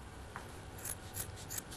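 Scissors snipping the toe end off a sock turned inside out, a few short crisp cuts close by in a quiet room.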